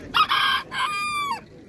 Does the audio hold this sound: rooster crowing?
yes